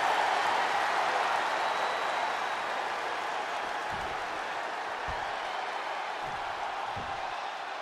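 Crowd cheering and applauding in the wrestling video game WWE 2K24: a steady, dense wash of arena crowd noise holds at an even level throughout, with no clear voices standing out.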